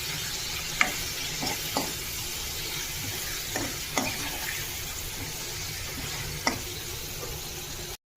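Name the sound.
chicken frying in oil for chicken curry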